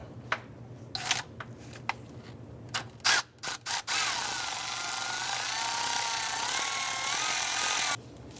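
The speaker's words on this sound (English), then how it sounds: "I'm going to use our 10mm socket and extension." A ratchet with a 10mm socket and extension works a bolt on a 2000-2006 Toyota Tundra, starting with scattered clicks and knocks, then a long continuous ratcheting whir for several seconds that stops abruptly, close and clear.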